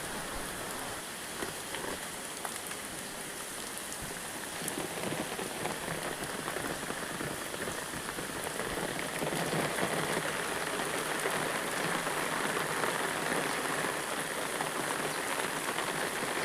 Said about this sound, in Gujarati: ચાલો તમને પણ ગામનો વરસાદ બતાવી દઉં